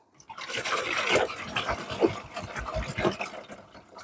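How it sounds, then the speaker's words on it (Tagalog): Water poured from a container into a dog's bowl outdoors, splashing in uneven bursts with brief gurgles at close range over roughly four seconds. "Lagay din tayo ng tubig dito."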